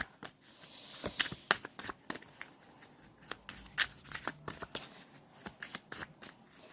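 Tarot cards shuffled by hand in a quiet room, a steady run of soft riffling snaps and flicks with irregular rhythm, close and fairly faint, no talking.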